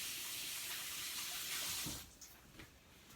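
Water runs steadily from a kitchen faucet while a turkey is rinsed, a broad continuous splashing that thins and breaks up toward the end.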